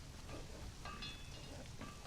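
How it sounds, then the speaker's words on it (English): Steady rain falls in the video game Conan Exiles, a dense, even hiss of drops that continues without a break at moderate loudness. "I feel like it's been raining for the whole session so far."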